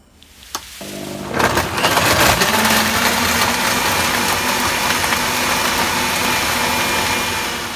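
A blender whizzes a pineapple smoothie with ice: a sharp click starts it, the motor surges up to a loud, steady high whir with ice grinding, then stays constant and eases slightly at the end, with no talk.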